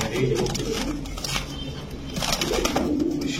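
Pigeons of mixed fancy breeds coo in soft, repeated rolling calls close by, rising and falling in bursts against a low background rumble.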